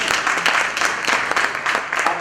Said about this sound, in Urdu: آپ کی جاری تالیوں میں